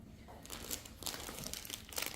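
Paper wrapping on top of an Island Batik fabric box being handled, giving close, quiet crinkling and crackling in a continuous rustle with a few brighter crunchy bursts.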